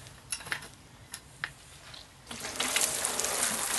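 Water is poured over a freshly sown bed in a January vegetable garden. A few light clinks and taps lead into a steady, close splashing pour that fills the last second and a half.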